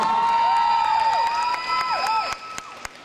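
A crowd at a shopping mall stage show in Chiang Mai applauds and cheers over loud music with sung tones, the noise holding steady and then dropping off near the end.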